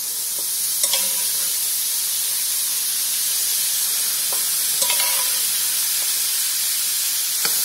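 A spoon stirs cooked dal filling in a cast iron pan, a steady loud hiss and sizzle throughout with a few faint scrapes and clinks of the spoon against the pan.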